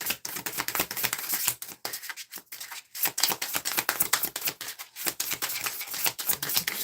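Slippery angel oracle cards being shuffled and handled, a dense run of quick papery flicks and riffles with brief pauses, close and fairly loud with no talking.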